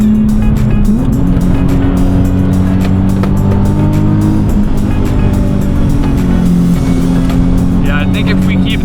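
A Nissan 370Z Sport Coupe with a six-speed manual drives along, its engine droning loud and steady from inside with small pitch shifts as it runs.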